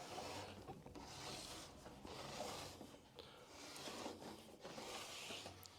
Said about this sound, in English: sharp utility knife, and we're going to score it